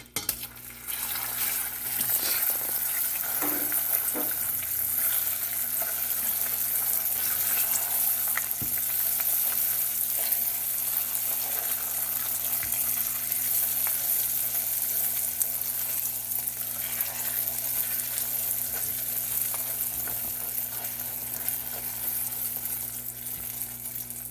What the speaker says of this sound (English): We got 1 tablespoon of butter going in now